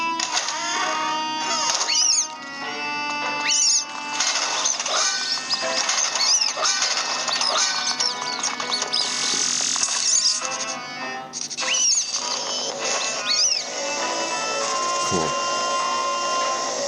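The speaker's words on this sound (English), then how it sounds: "this is interacting with your vacuum cleaner on the furniture that you can see" Vacuum cleaner sucking at furniture in the video game Luigi's Mansion 2, a steady whirring drone layered with chirpy game effects, rattling object clatter and bright musical tones, continuous and loud throughout.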